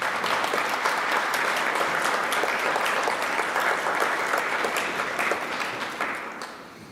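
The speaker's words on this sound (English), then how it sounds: "let's give all the students another round of applause." Audience applause at a regional civics bee competition for students, a dense sustained clapping from a crowd that stays loud and steady before tapering off toward the end, with no talking over it.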